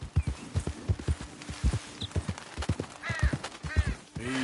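Horse hooves clip-clop at a steady walking rhythm in Red Dead Redemption 2, close and fairly loud, with a few bird caws and faint ambient sounds behind.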